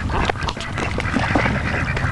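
Ducks at a park quack repeatedly in close, loud overlapping calls that fill the whole moment, with no talking.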